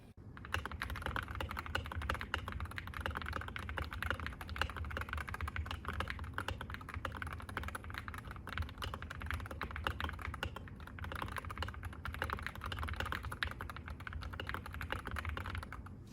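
Rapid, continuous key presses on a Wooting 60HE+ gaming keyboard, a dense steady clatter of close keystrokes with no pauses and no talk.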